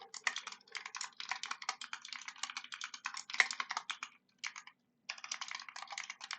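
Rapid typing of code on a computer keyboard, dense clusters of crisp close key clicks with short pauses and a brief silence near the end.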